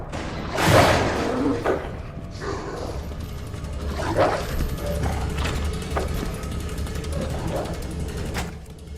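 Zombie dogs bark in Resident Evil 2 Remake, one sharp loud bark near the start followed by fainter yips and growls over mechanical game ambience.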